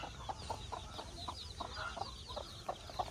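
Free-range country hens cluck in a steady rhythmic series at a farm, soft and somewhat distant, with no talking.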